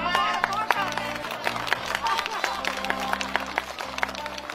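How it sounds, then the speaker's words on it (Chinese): Clapping from an audience at a New Year charity event in Datong County, with dense, steady applause and crowd noise throughout, fairly loud and close. "掌声有请庆典主持人闪亮"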